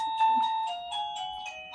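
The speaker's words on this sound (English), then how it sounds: "mailman, there's my doorbell." A doorbell chimes with several ringing tones in a short melodic sequence, clear and fairly loud, with faint talk under it.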